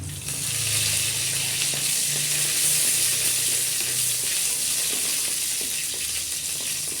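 Green chilies and curry leaves fry in hot oil for a buttermilk curry, a loud, close, continuous sizzle and crackle that holds steady throughout with no voices.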